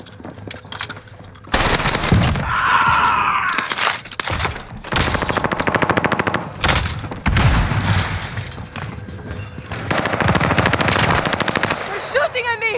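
Gunfire in the video game Warzone on Rebirth Island, with a Swiss K31 and an OTs 9, loud and close: long sustained bursts of automatic fire broken by short pauses, along with distant booms and some voice chatter.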